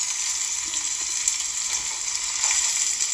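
Onion and garlic sauté in a hot pan, a steady close broadband sizzle with soft crackles running unbroken throughout, no voices.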